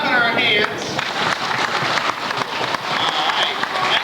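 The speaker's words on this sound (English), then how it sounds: "So let's just start stomping our feet." An audience at a bear show stomps its feet and claps along in a rowdy, continuous patter, with a voice talking over the crowd noise.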